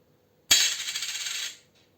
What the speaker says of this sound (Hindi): 1 रुपी कॉइन.